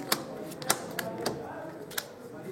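A deck of Luck & Logic trading cards being cut and shuffled by hand, a series of sharp, papery snaps at irregular intervals over a quiet room background.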